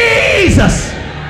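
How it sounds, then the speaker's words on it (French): A church congregation at a seminary in Gabon shouting together loudly at close range, a dense burst of mixed voices yelling in unison that swells and then fades slightly. "Can you shout Jesus"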